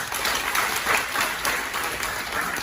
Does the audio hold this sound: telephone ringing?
no